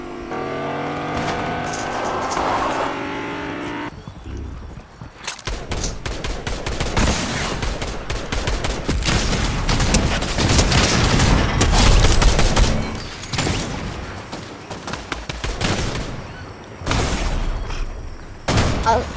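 Heavy video game gunfire, dense rapid bursts crackling loudly for most of the stretch after a revving vehicle engine at the start, with a few brief pauses, no talking.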